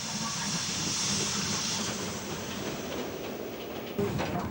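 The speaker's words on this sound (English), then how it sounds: "Number 92203 heads towards Wellow with a down express." Steam locomotive 92203 hauls a down express on the Somerset & Dorset line near Wellow, giving a continuous rolling rumble with steady hissing and faint wheel clatter, constant in level throughout.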